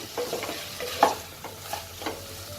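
A spoon stirs spices and ground cumin in a hot pan for a Bengali sweet-shop style cholar dal. Soft scraping strokes repeat every half second or so over a faint, steady sizzle, close and alone.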